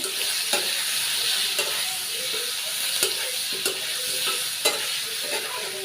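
Vegetables fry with turmeric and chili powder in a pan, giving a steady sizzle broken by sharp scraping stirs at irregular intervals, close and fairly loud.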